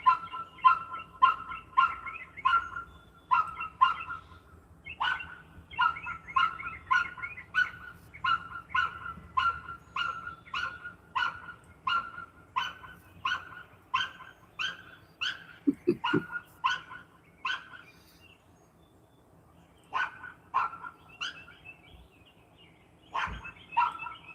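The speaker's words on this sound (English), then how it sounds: "That's the puppy alarm telling me the neighbor is coming home." A small dog yaps in rapid, repeated bursts of high barks, pausing briefly before starting up again, fairly close by.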